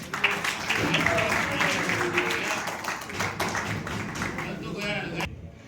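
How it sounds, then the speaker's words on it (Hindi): An audience at a seminar claps together, a dense, fairly loud burst of applause that holds for about five seconds, then cuts off abruptly. "एक बार उन दोनों के लिए तो तालियां बजाते हैं यार"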